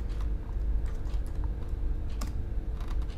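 Keys clacking on a computer keyboard while someone types code for a Django Python blog search feature, scattered quiet keystrokes over a steady low background hum with no talking.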